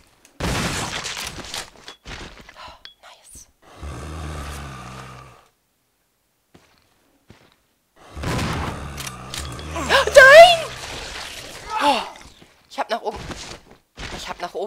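Gunshots ring out in the video game Resident Evil 0 HD Remaster as several sharp reports in short clusters between quiet gaps, with someone speaking German over parts of the scene.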